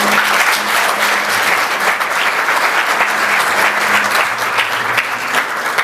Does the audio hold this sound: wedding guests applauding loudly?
yes